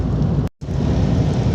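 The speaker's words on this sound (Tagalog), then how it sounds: "Ulan na talaga." Steady, dense rain pours during a motorcycle ride on a road in Sto. Domingo, Albay, a close continuous hiss with one brief dropout partway through and no voices.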